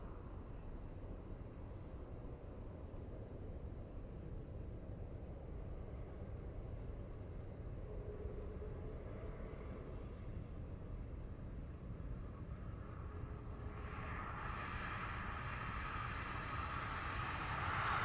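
A distant aircraft taxiing at East Midlands Airport at night, a steady low broadband rumble throughout with a slowly rising higher engine whine toward the end, no talk.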